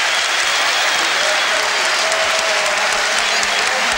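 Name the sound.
football fans applauding a goal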